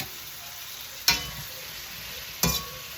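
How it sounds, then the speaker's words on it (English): Vegetables sizzle softly in oil with tomato bouillon, a low steady hiss broken by two sharp utensil clacks against the pan about a second and a half apart. "A little bit more oil in there. And let's stir that up."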